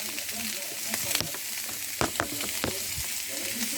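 Lardons frying with carrots and garlic in a pan for penne carbonara give a continuous close sizzle, broken by a few sharp stirring scrapes and clatters.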